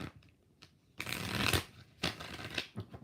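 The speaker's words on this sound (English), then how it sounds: "5 shuffles." Tarot cards are shuffled in close, quiet bursts, two main riffling runs of papery flutter separated by short pauses, with faint soft handling between them.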